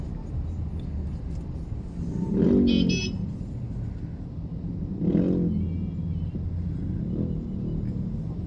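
Road traffic on a congested national road: steady engine rumble with vehicles passing in slow waves, a brief horn toot among them, heard from the roadside.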